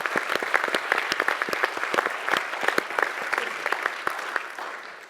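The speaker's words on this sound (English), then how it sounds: "Another round of applause for Matt." Audience applause at a panel discussion on human augmentation, a steady patter of many hands clapping with distinct sharp claps standing out, continuing for several seconds before tapering slightly at the end.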